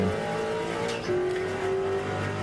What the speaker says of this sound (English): we get all of the late models coming through turn 3